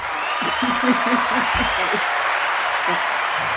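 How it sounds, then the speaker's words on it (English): A small group applauds as a guest arrives, a steady hiss of clapping running throughout, with voices talking and chuckling over it. "A round of applause and everything"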